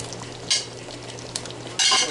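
Meatballs cook in sauce in a pan, a gentle bubbling sizzle broken by short bursts of stirring and utensil scrapes, close up with no voices.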